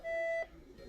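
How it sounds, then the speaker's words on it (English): Steady electronic beeping inside the USS Albacore submarine near the radio room, a single sustained tone about half a second long, fairly clear, then fading into quiet room hum. "Do you hear the beeping?"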